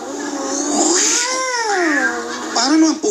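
A person imitates a cat on a roof, producing loud, wavering meows and yowling caterwaul sounds in several drawn-out rising and falling calls, close to the microphone.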